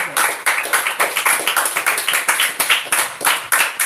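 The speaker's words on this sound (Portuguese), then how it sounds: "As palmas que exalta o Rei Jesus." Church congregation clapping in praise to Jesus during an evening service, a loud, rhythmic run of group claps with a regular beat that carries on steadily from start to finish.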